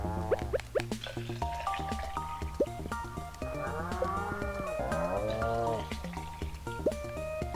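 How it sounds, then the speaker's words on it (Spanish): Cows moo in the Stardew Valley farming game: several drawn-out lowing calls overlap with bleating farm animals and soft dripping, steady and moderately loud throughout with no speech. "Vamos a ver a la vaca"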